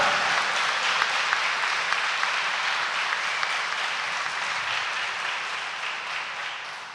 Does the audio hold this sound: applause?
yes